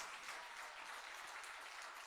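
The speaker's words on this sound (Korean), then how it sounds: "우리 하나님 앞에 감사 박수 한번 해요" A church congregation claps steadily in a dense, even patter that stays faint and distant from start to finish.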